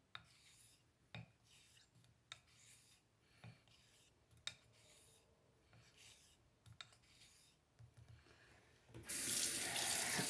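Soft, rhythmic scraping as a straight razor is honed on a Shapton 1500 whetstone, then a sudden loud rush of tap water as the stone is rinsed at the end.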